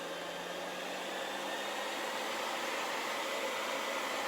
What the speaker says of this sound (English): using a high power hairdryer on a medium heat